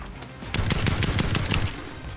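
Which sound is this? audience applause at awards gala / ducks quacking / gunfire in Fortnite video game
gunfire in Fortnite video game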